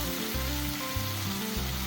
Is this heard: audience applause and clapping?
no